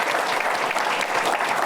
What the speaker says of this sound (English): I would love for you to give a great round of applause